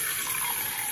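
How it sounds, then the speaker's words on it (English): Tap water runs steadily into a rabbit's water bowl as it is filled, a continuous close hiss and gush with no talking. "I'm gonna fill up Rocky's water bowl with some"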